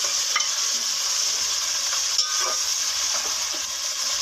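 Tomatoes fry in a pan for a potato and pea curry, giving a steady hissing sizzle with occasional scraping stirs, close and even in level, no voices.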